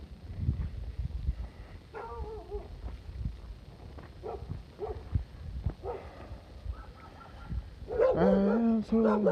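A dog barks and yips repeatedly outdoors, nearby at moderate volume, mixed with ambient street noise and occasional talking.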